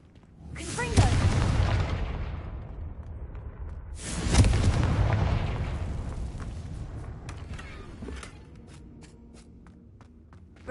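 Two deep, booming blasts of the Confringo fire spell in a Hogwarts video game, each a loud close burst at about one and four seconds that rumbles off slowly, followed by quieter scattered clicks and thuds.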